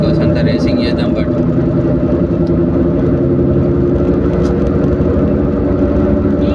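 A top-variant BMW car drives fast on an empty road, its engine and tyre rumble a steady, dense drone from inside the cabin, with speech over it.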